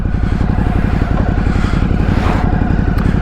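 A new Ducati Hypermotard 950SP gives off a steady, loud, throbbing engine rumble with a rapid low pulse, heard close and on its own.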